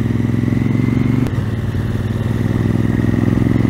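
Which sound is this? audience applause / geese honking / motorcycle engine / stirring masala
motorcycle engine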